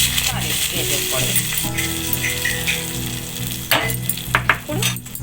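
Hot tempering with curry leaves sizzling and crackling as it is poured into ridge gourd and moong dal, a loud continuous fry with sharper pops and stirring clatter toward the end.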